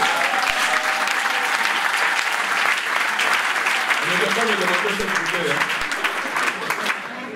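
A church congregation bursts into sustained applause for the Lord, dense clapping filling the room with a preacher's voice speaking over it, fading slightly at the end.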